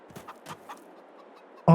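A chicken in a realistic farming video game gives a few soft, faint clucks in quick succession. A sudden louder burst of game sound follows at the very end.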